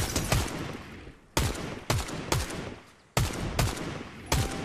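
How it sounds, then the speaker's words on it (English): Enemy gunfire in the BioShock video game, a series of loud, sharp shot volleys arriving in quick bursts with brief gaps between them, close and punchy with echoing tails. "Shooting at me"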